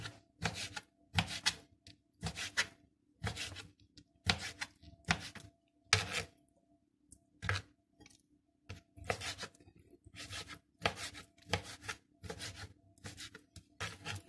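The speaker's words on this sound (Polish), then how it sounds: "Teraz kroimy mięsko. Ja do tego wziąłam pół pierśnika i takimi plasterkami będę kroić nasze mięsko." Repeated slicing of half a chicken breast into thin pieces with a knife on a board, a steady series of short, close strokes with brief pauses between groups.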